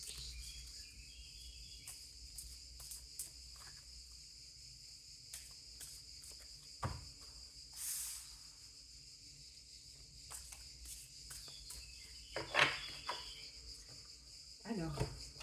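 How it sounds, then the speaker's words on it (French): Cicadas buzz in a steady high drone, with occasional bird calls and a few brief nearby rustles and knocks. "vous allez entendre le chant des cigales et des oiseaux"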